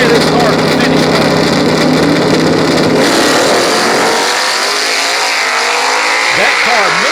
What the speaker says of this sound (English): watch this big old heavy Superstock big block power car leave the start line